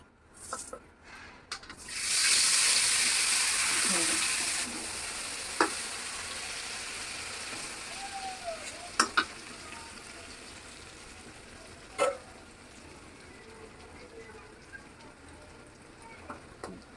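Chickpea dal for halwa fries in hot oil with garam masala: a strong sizzle for a few seconds, then quieter frying with scattered scraping stirs and soft taps.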